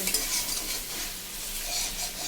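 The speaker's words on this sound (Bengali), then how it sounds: "আমি গ্যাসটা একটু লো করে দেব কেন এটা ভাজা হবে" Lachha frying slowly in ghee over a low gas flame, a quiet even sizzle with soft stirring scrapes, close and faint, no voices.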